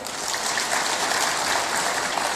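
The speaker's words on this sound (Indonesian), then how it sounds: "Tepuk tangan buat Pak Kodari." A hall audience at an Indonesian government event claps for Pak Kodari, producing a dense, even wash of applause that stays loud and continuous with no voices over it.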